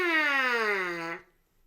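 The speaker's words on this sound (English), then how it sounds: "I can also play higher and lower on the mouthpiece by making my lips tighter and looser." A trumpet mouthpiece buzzed on its own by the lips, one sustained raspy, nasal tone about a second long that slides gradually downward in pitch as lip tension eases, then stops abruptly.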